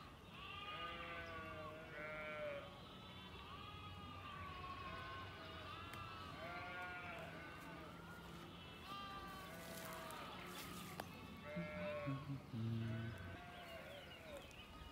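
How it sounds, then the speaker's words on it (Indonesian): Goats bleating repeatedly in a rural outdoor setting, the wavering calls faint and somewhat distant, overlapping one another over steady low background noise. "Oh, di sana aja suara kambing."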